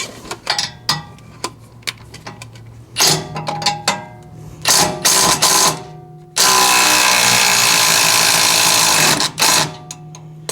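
Power tool working the lower shock bolt on a Gen 3 Ford Raptor, loud and close: scattered clicks and short mechanical bursts, then a sustained roaring run of about three seconds.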